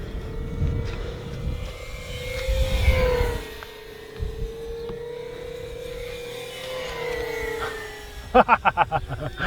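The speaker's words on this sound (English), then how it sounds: "That full throttle whistle on this is crazy." An Avios Twin Otter model plane's engines drone with a steady high whine that rises and falls, a full-throttle whistle, ending in a burst of rapid loud pulses near the close.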